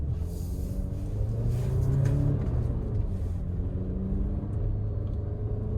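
An Alfa Romeo Stelvio Ti on Michelin Pilot Sport 4S all-season tires climbs a steep snowy hill, its engine a steady low rumble with a slight swell partway through, heard close from inside the cabin.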